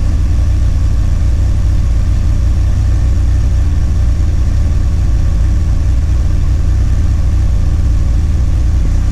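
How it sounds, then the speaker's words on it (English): A Porsche 944 Turbo engine runs steadily as it warms up, a loud, constant low rumble held close throughout with no talking. "I'm gonna let the motor get up to operating temperature and then we'll see what the readings are."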